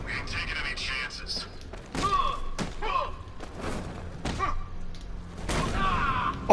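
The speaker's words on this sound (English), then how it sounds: "Can I drop attack this man?" Thuds and impacts from a Batman Arkham Knight drop attack on a soldier, several dull hits spread across the moment over game music and ambience, with voices talking throughout.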